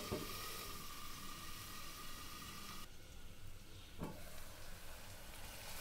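Onions with salt sauté in a pan, giving a faint, steady hissing sizzle with a couple of soft clatters from stirring, heard alone without talk.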